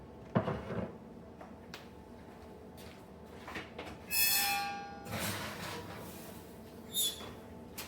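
A kitchen oven door opening and closing while spicy Peruvian chicken cooks: a few loud, sharp clunks and scraping bangs, spaced out over a quiet room background.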